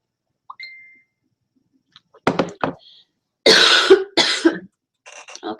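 Someone on an online video call coughs in a few harsh, separate bursts, close to the microphone, with quiet gaps and faint noises between them.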